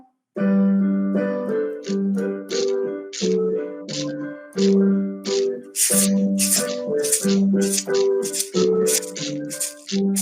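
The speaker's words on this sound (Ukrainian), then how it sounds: "А давайте разом зіграємо на наших музичних інструментах." Children shake small rattles and shakers in rhythm, starting quietly, over a bright, tinkling recorded melody in a music class, the shaking growing busier toward the end.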